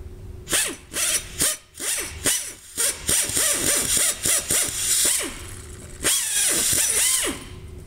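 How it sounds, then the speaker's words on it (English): Power drill with a 5/16 bit boring into aluminum, in repeated bursts of whining motor that spins up and winds down, loud and close with brief pauses between. "This drill bit is the 5/16 drill bit, which will leave us enough material inside the hole here"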